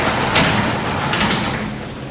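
A garage door rolls along its track during a balance and adjustment check, giving a steady close rumbling slide with a few brief rattles.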